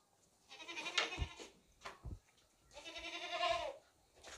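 A fat black-and-white goat bleats in two stretched cries with a short pause between, close and clear, with faint rustling underneath and no talk.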